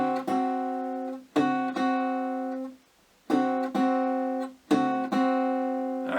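Plucked guitar notes ring out in four short groups, each a bright chord-like attack over a sustained low note, with brief silences between.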